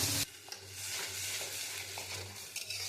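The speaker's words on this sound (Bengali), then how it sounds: "কড়াইয়ের তেলটা রয়েছে, আমি থানকুনি পাতাটা কড়াইতে দিয়ে দিচ্ছি" Thankuni leaf paste hits hot oil in a kadai with a steady sizzle, broken by a few scraping stirs of the spatula, close and continuous.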